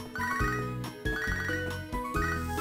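A phone rings with a jingly chime in the Game Boy-style game Pokemon Soul Silver, a bright repeating tune in three quick bursts over a steady backing melody, close and clear with no talk.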